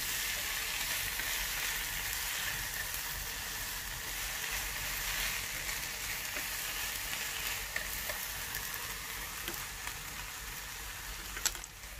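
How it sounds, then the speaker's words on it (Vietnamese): Steady sizzling of vegetarian rice vermicelli being stir-fried in a hot pan, a continuous bright hiss with occasional small clicks and stirring taps, close and unaccompanied by voices. "Thì sau khi nêm xong thì mình xào sơ"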